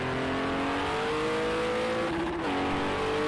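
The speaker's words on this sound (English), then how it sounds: "jump on board the Audi engine." An Audi GT3 race car's engine heard from onboard in a racing video game at Spa, a steady, fairly quiet drone with rising revs, a brief dip in pitch as it shifts, then climbing again.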